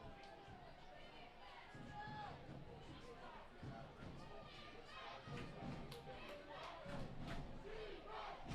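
A rowdy home crowd at a De La Salle high school varsity football game roars and cheers, a dense, swelling mass of shouting voices that grows louder toward the end.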